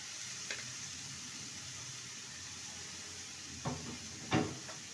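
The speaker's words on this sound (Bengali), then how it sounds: "এবার ফুলকপি ফুলকপির পেস্টটা দিয়ে দেবো" Cauliflower paste is stirred into fried spice masala in a pan, a faint steady sizzle with a few soft scraping stir strokes near the end.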